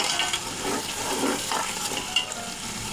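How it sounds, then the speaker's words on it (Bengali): A spice paste with ground nuts fries in oil for chicken biryani, a soft, close sizzle mixed with stirring scrapes and a light clink near the end. "এখন সব কিছু ভালোভাবে একটু কষিয়ে নেব"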